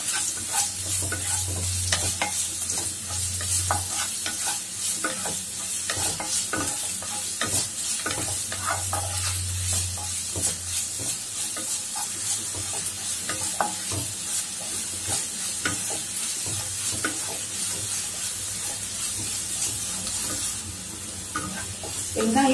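Chopped large onion sizzles steadily in hot oil, a constant loud crackle and hiss with occasional stirring, up close.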